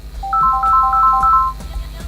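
An incoming phone call rings during a radio program: a clear electronic ringtone of repeated bright tone bursts, loud and close, running for about a second before fading into low background noise.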